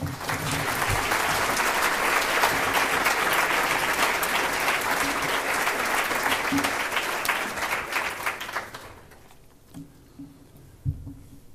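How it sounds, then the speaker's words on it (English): Conference audience gives a sustained round of applause for a coordinator and keynote speaker, loud dense clapping for about nine seconds before fading into a few scattered claps. "Please give them a round of applause."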